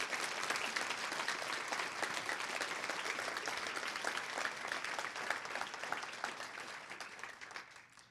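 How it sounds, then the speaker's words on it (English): Round of applause from an audience at a storytelling evening, sustained and even for about eight seconds, fairly distant and soft, tapering off at the end. "if everybody can just give a quick round of applause for Kevin"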